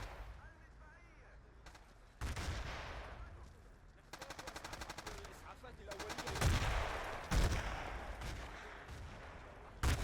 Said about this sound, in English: A lot of holy hand grenades going down in the alleyway north of the hotel flag.